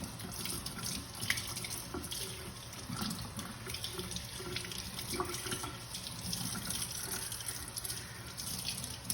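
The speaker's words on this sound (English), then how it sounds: "So we're washing the vegetables." Vegetables are rinsed under a running kitchen tap, a steady, fairly faint gush of water splashing in a sink, with light handling noises and no talk.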